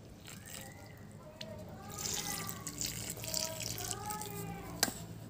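Marigold seedlings in PET bottle pots get a very light watering, giving a quiet trickle and a few soft drips over faint background tones.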